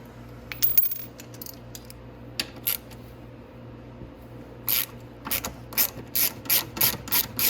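Ratchet with a 10 mm socket loosening a control arm bolt on a Venom 125cc Grizzly ATV, a few scattered clicks first, then a steady run of quick, close, crisp ratcheting bursts.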